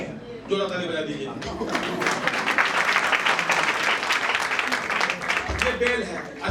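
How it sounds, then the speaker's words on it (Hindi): A crowd of listeners at a sermon for husbands and wives claps steadily in dense, sustained applause, loud and close, with a voice speaking over it. "जोड़ा ताली बजा दीजिए"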